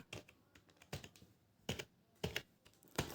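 Keys tapped on a computer keyboard, including a press of Enter: crisp, close clicks arriving in small irregular clusters over a few seconds, fairly quiet and with no one talking.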